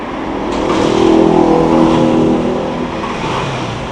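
A Yamaha Spark 135 motorcycle engine runs close by and revs up, its loud buzzing note climbing and then easing off over a few seconds.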